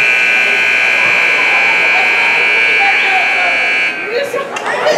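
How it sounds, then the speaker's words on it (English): A loud, sustained electronic game-ending buzzer at a 12U youth hockey game blares for about four seconds and then cuts off, leaving crowd noise and commotion. "Brody Haas beating the buzzer, pushing it in."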